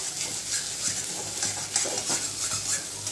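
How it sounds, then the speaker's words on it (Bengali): A spoon scrapes and stirs spiced teasel gourd mash in a pan over a gas flame, with soft sizzling and light metallic scrapes repeating in a loose rhythm. "সমস্ত মশলার সঙ্গে ভালো করে মিশিয়ে সমানে নাড়তে থাকবো"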